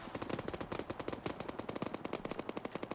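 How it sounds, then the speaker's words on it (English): Rapid automatic gunfire in the video game Arma 3, a loud, dense continuous burst of fast shots rattling on without pause, close and alone. "I think they're just firing in a circle trying to look cool"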